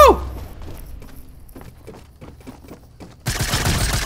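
Fortnite Mobile gunfire during a squads match, with a loud opening shot, scattered sharp bursts and then a dense rapid volley near the end, with faint voices talking in the background.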